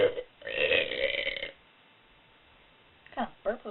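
A boy lets out a long, loud burp that lasts about a second, followed by a short silence and brief voices.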